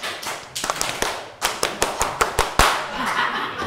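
Rhythmic group clapping of the Indonesian scout (pramuka) clap pattern, a series of sharp, fairly close hand claps in quick bursts with short pauses, starting sparse and then falling into a steady patterned beat.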